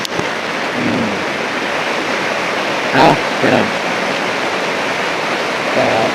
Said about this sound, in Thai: ฝนก็ตกเลย